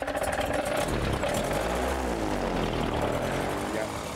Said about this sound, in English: Time to fire up VK's engine.